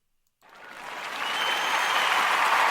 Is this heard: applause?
yes